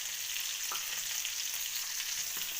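Bangude (mackerel) fish frying in a pan, a steady close hiss of oil with a few faint pops and no voices.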